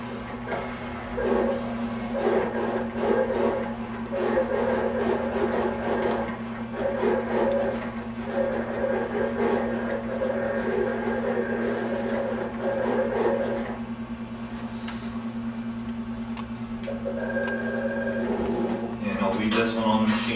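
Roland GX-24 vinyl cutter slicing flock media at about 30 cm per second with a 60-degree blade, a steady mechanical hum with rhythmic carriage movement and rubbing sounds, running continuously at moderate level.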